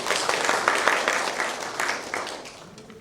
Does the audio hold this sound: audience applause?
yes